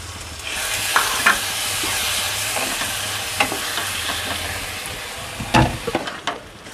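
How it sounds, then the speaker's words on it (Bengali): Spices with a splash of water sizzling alongside potatoes in a pan for Bengali matar ghugni, a steady fry with intermittent scraping stir strokes and sharper clatters near the end, no voices. "আলুর সাথে মশলাগুলো ভালো করে কষিয়ে নেব"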